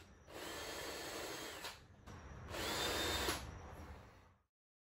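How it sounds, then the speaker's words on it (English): A power drill drives screws through backer board into a wooden picture frame in two close bursts of about one and a half seconds each, loud and near, with a short pause between them and silence after. "I screwed it in place through the backer board"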